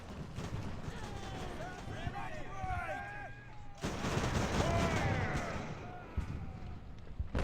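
Musket volleys in Ultimate Admiral: Age of Sail crackle across a naval battle as repeated broadband bursts, with booming reports and a louder swell of fire midway, set against busy background battle noise.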